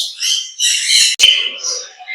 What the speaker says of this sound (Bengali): এটা হচ্ছে চ্যাটারিং লরি রানিং একটা ফিমেল পাখি